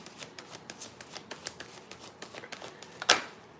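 Oracle cards being shuffled, a quick even run of soft riffling flicks close by, ending in one louder snap, with no talking.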